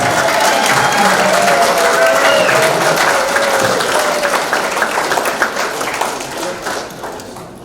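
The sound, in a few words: audience applause and cheering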